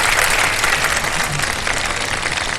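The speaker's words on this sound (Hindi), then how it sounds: "तालियां बजाएं दिल खोल के" A studio audience at a Ramadan iftar television show claps loudly and continuously in a dense, close burst of applause.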